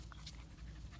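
A puppy pants quietly up close, quick soft breathy huffs in an uneven rhythm with faint whimpery edges, low in level against a quiet room.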